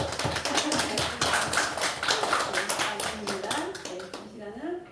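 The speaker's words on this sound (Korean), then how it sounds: "우리 집사님 신앙으로 잘 세워지라고 우리 박수로 응원 한번 해주겠습니다" A church congregation claps together for a new deacon during a Sunday worship service, a dense run of hand claps that thins and stops after about four seconds.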